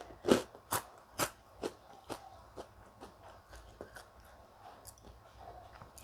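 Crunchy kerupuk crackers seasoned with garlic, coriander and salt are bitten and chewed up close, giving sharp crisp crunches about every half second that start loud and gradually soften into quieter chewing crackles.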